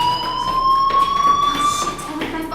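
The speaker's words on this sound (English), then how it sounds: "do you hear that fire alarm? That means you should be outside." A fire alarm sounds in the video game Life Is Strange, a steady loud electronic tone held on several pitches that drifts slightly, ringing continuously for the whole stretch with no pauses.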